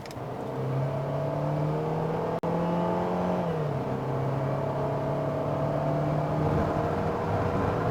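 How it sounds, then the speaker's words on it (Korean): A SsangYong Torres SUV with a six-speed automatic accelerating hard up a slight incline, its engine drone rising steadily in pitch, easing briefly after a gear change and then climbing again, heard from inside the cabin. "지금 제가 엑셀을 한 번만 좀 깊게 밟아 보겠습니다."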